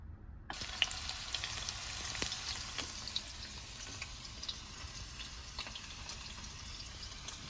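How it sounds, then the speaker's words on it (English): Sangom sana sizzles steadily in hot ghee, a bright continuous frying hiss that starts suddenly and carries on with occasional pops and soft clinks from the pan. "So we will fry it in the ghee now."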